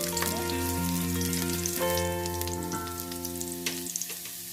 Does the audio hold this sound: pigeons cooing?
no